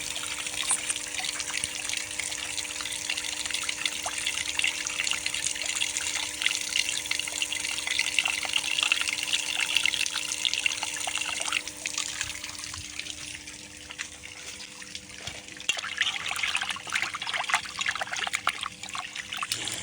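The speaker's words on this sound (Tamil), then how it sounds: "இப்போ 2-3 தடவை நல்லா அலசிக்கலாம்" Water runs and trickles steadily from a tap while cleaned fish are rinsed in a sink, a continuous close splashing wash with no talking.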